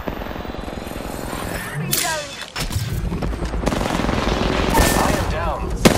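Gunfire in the video game Apex Legends: dense, continuous bursts of rapid automatic shots and cracking impacts, loud and close, with brief whooshes and clatter layered over a busy battle din.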